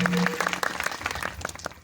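A crowd at a Marathi kirtan during a samadhi ceremony in Kondhur claps loudly together, a dense burst of applause filling the short moment with voices mixed in.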